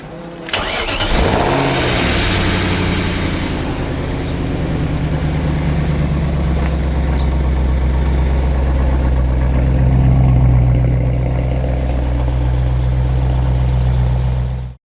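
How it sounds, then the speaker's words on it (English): A BMW E36 drift car fitted with a V8 starts with a sharp crank, revs once hard, then settles into a deep, loud, steady idle that swells slightly before cutting off abruptly; no talking. "So my E36 V8 Drifter, as I said, this is basically a fun car"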